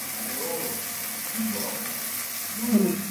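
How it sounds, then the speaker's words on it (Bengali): Onion, ginger and garlic fry in a pan with Kashmiri red chili powder, giving a soft continuous sizzle with faint stirring scrapes and a brief louder stir near the end. "পেঁয়াজ, আদা, রসুনটা কিছুটা ভাজা হয়ে এসছে। আমি এখন দিয়ে দিয়েছি কাশ্মীরি রেড চিলি পাউডার"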